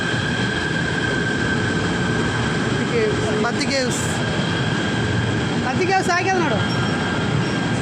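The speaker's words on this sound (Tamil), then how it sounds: "ட்ரெயின் வந்து விட்டது." A train arrives at Batu Caves station in Malaysia. A steady rail rumble continues throughout, with faint squealing tones, while a station announcement voice speaks briefly over the noise.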